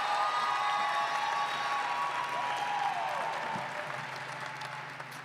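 Graduation ceremony audience applauding in a large hall, a steady wash of distant clapping that slowly tapers over five seconds.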